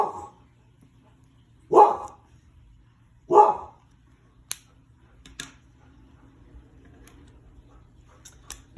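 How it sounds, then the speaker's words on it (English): A dog barks at a truck driving down a residential street: two separate, mid-loud barks about a second and a half apart, followed by faint clicks and a low steady hum. "My dog is notifying us there is a truck driving down our street"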